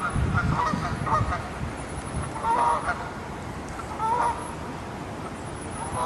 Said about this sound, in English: The geese are apparently not happy that I'm here.